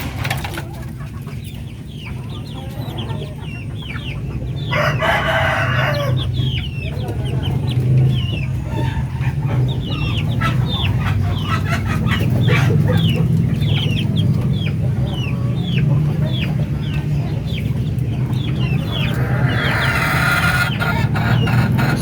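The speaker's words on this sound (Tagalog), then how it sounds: "dito sa ating mga darag native chicken" Darag native chickens in a backyard farm cluck steadily and chatter over a low hum, with occasional louder calls rising through the flock, close and continuous.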